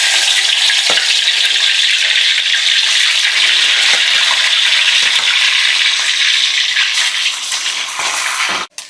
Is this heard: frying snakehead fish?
yes